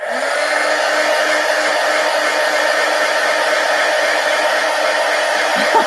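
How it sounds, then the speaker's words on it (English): A heat gun blows a steady, loud rush of hot air over a textured surface, with a constant broadband hiss and a faint hum that holds unbroken for about six seconds before a small shift at the end. "let me hit this with the heat gun and look at it"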